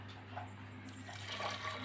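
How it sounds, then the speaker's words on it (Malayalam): Water poured into a pressure cooker holding lentils, a soft faint splashing trickle over a low background hum, close and continuous, no voice. "പരിപ്പ് വേകാനുള്ള വെള്ളം അങ്ങോട്ട് ഒഴിച്ച് കൊടുക്കാം"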